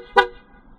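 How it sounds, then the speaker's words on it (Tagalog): A single short, bright horn beep from a Bristol Venturi 500 motorcycle sounds close by, then fades into quiet. "Tapos, busina."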